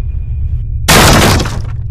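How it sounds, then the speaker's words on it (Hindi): A cartoon character smashes things outside a morgue: a sudden loud crash of shattering glass bursts out after a quiet moment, its debris rattling and fading within a second. "बुल्ली तो दारू पीने के बाद मुर्दा घर के बाहर तो तोड़ फोड़ कर रहा है"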